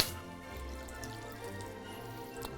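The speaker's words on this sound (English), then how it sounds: "And the rest we're gonna add water in." Water poured into a cooking pot holding diced venison and a little cream, a steady moderate trickle and splash running throughout with no talk over it.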